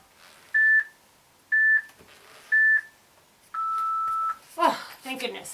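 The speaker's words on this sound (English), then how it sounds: "It's my favorite 10-second beep." A workout interval timer sounds three short electronic beeps about a second apart, then one longer closing beep, clear and close in a quiet room, followed by a brief exhale and faint movement.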